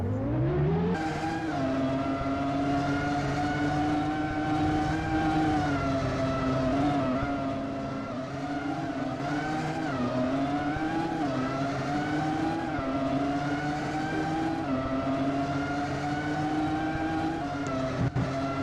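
Race cars in a Roblox Formula 1 game drone past continuously, their engine pitches rising and falling as they accelerate and shift, a steady synthetic roar with no talking.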